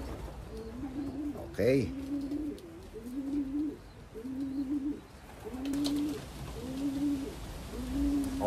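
Racing pigeons coo repeatedly nearby, a run of soft rolling low calls in a steady rhythm, with a brief flutter or click early on and someone speaking quietly over them.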